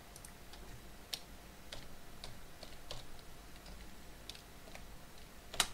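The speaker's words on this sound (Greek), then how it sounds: "πληκτρολογούμε K-Lite" Typing on a computer keyboard, faint irregular key clicks spaced across a quiet room, with one sharper keystroke near the end and no talking.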